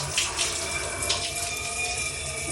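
Water runs steadily from a shower in a newly finished DIY toilet and shower room, a continuous close hiss of spray and splashing throughout with no talking.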